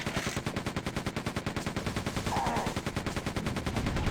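Rapid automatic gunfire from the original Quake video game, a dense, steady stream of shots at close range with heavy low-end thumps, continuous and loud across the whole stretch with no talking.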